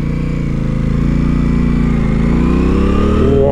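An Aprilia RS 660 engine idles with the clutch pulled on an Alpine pass, a loud, steady, throbbing twin-cylinder drone with a faint rise in pitch near the end, no talking.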